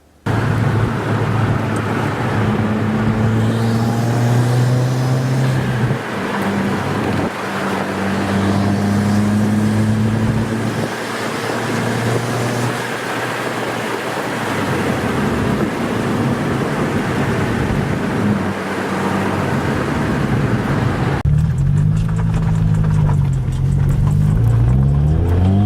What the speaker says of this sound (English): we went to take it for a drive to do a few pulls to make sure everything was working good